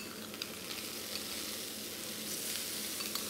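Tofu fries in oil in a pan with a steady, close sizzle and crackle that stays even throughout, with no voices over it.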